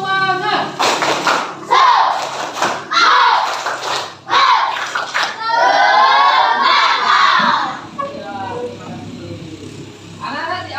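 A classroom of schoolchildren does a rhythmic spirit clap chant together, loud bursts of shouted syllables punctuated by sharp group claps and thumps, close and energetic, with a teacher's voice leading between phrases.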